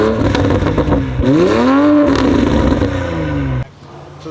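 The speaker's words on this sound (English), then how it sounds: "I'm gonna crank it, rev it for you guys." A Toyota Supra engine with a blue-burnt HKS exhaust of about 4.5 inches revs loudly and close up, climbing through a rising sweep, holding, then dropping back to a rough idle, with clattering mechanical noise.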